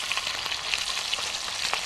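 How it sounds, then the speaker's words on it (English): Bacon fries in a pan with a steady, dense crackling sizzle heard up close, with no talking over it. "I'm going to have to turn this bacon over. I think it's sizzling a lot on one side."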